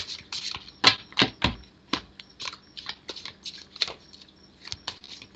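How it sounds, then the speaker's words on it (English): A deck of tarot cards is shuffled close up, with quick, uneven bursts of papery flicks and riffles that tumble over one another in an irregular patter, fairly soft and without talk. "let's get through this last shuffle"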